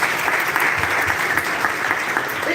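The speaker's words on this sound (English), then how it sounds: "Please, a round of applause for him." Applause from an audience at a meet-up of content creators, dense and continuous clapping that stays loud for the whole short stretch.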